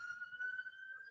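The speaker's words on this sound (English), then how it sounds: "You can probably hear the siren in the background." A police siren wails faintly in the distance as a single steady, high tone, heard softly in the background.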